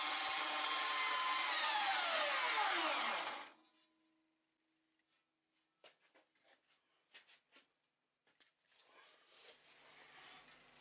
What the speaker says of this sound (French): j'ai fait la première coupe avec la scie à ruban